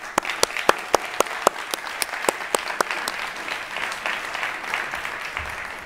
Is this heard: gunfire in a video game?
no